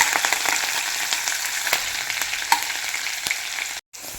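Ginger, garlic and green chillies sauté in oil for rambutan pickle with a bright, steady sizzle and repeated light stirring taps. The sizzle cuts out briefly near the end, then resumes.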